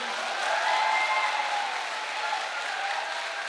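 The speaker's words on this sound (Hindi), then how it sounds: "और इसके लिए तो ताली बजा दो।" Seminar audience applauding together at the close of a health talk, a dense, steady wash of clapping that swells slightly then holds at an even level for a few seconds, with no voices heard.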